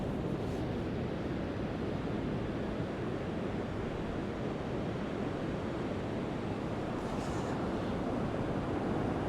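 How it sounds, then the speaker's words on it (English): Surf breaks steadily along a shallow beach at Port Talbot, South Wales, in winter, a constant dense wash of rushing water with wind buffeting the microphone and no distinct individual wave crashes. "Surf is picking up a bit, isn't it?"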